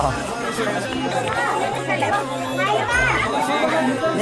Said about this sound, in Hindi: बहुत भीड़